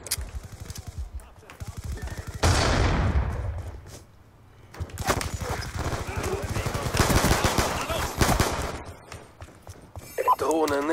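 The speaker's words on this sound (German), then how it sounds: "da werde ich schon wieder angeschossen" Bursts of gunfire from a Black Ops 2 multiplayer match, loud and dense rapid shots firing repeatedly over the whole stretch, with a brief lull in the middle and someone talking over the action.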